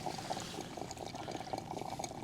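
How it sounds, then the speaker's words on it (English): Water gushing and splashing out of a frozen RV tank cap in a blizzard, a continuous bubbling pour with gurgling spurts, fairly close and steady. "There's water coming out."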